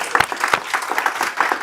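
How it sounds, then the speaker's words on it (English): Brief applause from a business seminar audience, with a few sharp individual claps standing out over a patter of clapping from a modest crowd. "give another round of applause for Chris"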